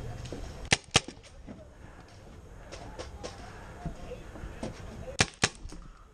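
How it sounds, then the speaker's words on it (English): Paintball markers fire in the distance during play: a few sharp cracks near the start and a quick pair later, with scattered fainter pops and rustling in between. "We're getting shot at."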